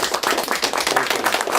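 Audience applause after a flute recital, dense steady clapping from many hands filling the room throughout, with no voices over it.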